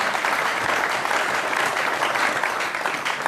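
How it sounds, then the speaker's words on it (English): A church congregation claps for Jesus in dense, continuous applause that stays loud and even throughout. "Please clap for Jesus"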